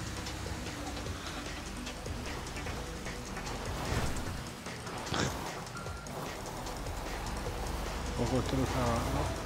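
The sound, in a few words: rain in the video game GTA V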